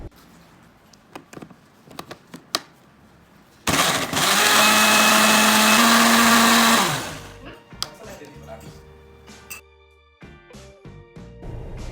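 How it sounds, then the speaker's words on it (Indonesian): Soft kitchen clicks and taps, then a blender grinding chili peppers with water roars loudly for about three seconds, its motor pitch dropping as it winds down, followed by quieter clatter. "Kemudian kita haluskan dengan menggunakan blender atau ulekan."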